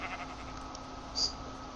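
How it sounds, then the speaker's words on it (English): Sheep bleating in the Minecraft video game, a single short game-sound bleat heard fairly clearly over a steady background of other game audio. "Okay, kill the sheep now."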